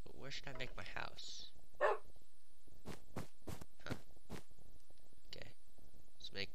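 Wolves in Minecraft give short sharp barks and yips at irregular intervals, several quick ones in a row, while someone talks over them.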